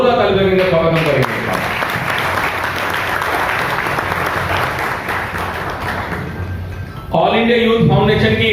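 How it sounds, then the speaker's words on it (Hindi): Audience applause at an All India Youth Foundation gathering on sanitation workers, a dense steady burst of clapping lasting about six seconds, with someone speaking just before and right after it. "मैं चाहूंगा जोरदार तालियों का स्वागत करेंगे।"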